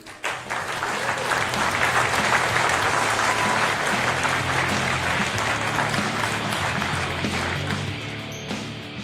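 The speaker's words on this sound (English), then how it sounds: "Can we get one more round of applause" Audience applause at a food policy celebration event, a dense, sustained round of clapping from a large crowd that swells quickly and fades slightly near the end.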